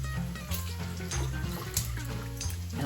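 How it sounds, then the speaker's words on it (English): Homemade chicken stock poured from a bowl into clean mason jars, a steady continuous stream of liquid running for a few seconds at close range with faint tonal sounds underneath. "I'm going to take it right out of my bowl and I'm just going to pour it."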